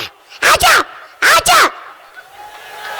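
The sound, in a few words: dog barking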